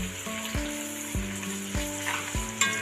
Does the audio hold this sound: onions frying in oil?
yes